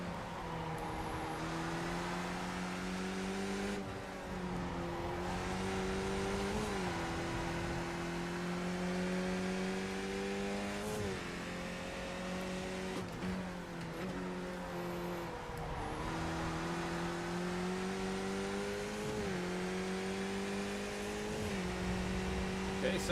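Race car engines in the iRacing sim, played in VR, whine steadily and loudly, with pitch climbing through each gear and dropping sharply at repeated shifts.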